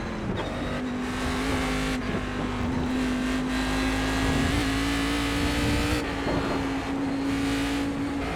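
Race car engine in the iRacing sim at Watkins Glen, a steady loud drone holding a near-constant pitch with small rises and dips as the car rolls through a corner, continuous throughout without speech.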